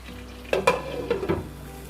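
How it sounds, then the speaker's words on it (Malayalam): Food fries in a covered pan over a medium flame, giving a steady low sizzle with a few sharp utensil clanks partway through. "മീഡിയം ഫ്ലെയിമിൽ വെച്ച് നമുക്കൊന്ന് അടച്ച് വെച്ച് ഫ്രൈ ചെയ്തെടുക്കാം."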